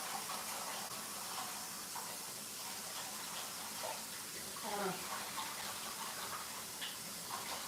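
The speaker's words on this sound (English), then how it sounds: "I wash it in cold water." Tap water runs steadily into a bowl as a cup of rice is rinsed in cold water, a continuous close hiss with faint swishing, and a voice speaks briefly over it.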